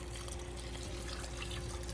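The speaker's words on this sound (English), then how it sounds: "I got to put some water." Water running steadily from a tap into a pot for potato soup, a continuous broadband splashing stream that stays even and fairly close throughout, with no talk.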